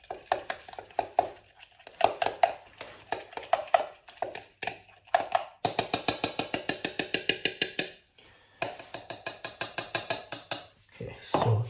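A spicy calzone sauce being mixed in a bowl, a utensil scraping and clinking in quick repeated strokes, pausing and resuming in bursts, close and fairly quiet with no talking.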